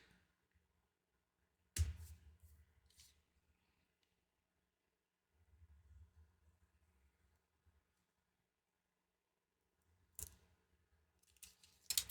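Scissors snip through a laminating sheet panel in a few quiet, crisp cuts, separated by long pauses of near silence and faint handling rustle.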